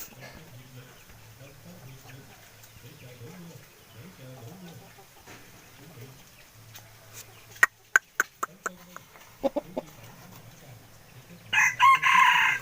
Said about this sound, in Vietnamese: một con gà chọi đây nhá